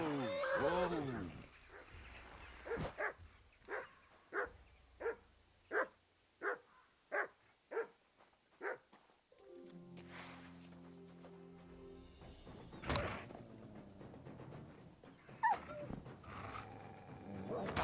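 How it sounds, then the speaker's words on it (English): Dogs bark in a rapid, evenly spaced series and then whimper and howl in the video game Kingdom Come: Deliverance II, fairly close. A voice talks over the later part. "Dang dogs."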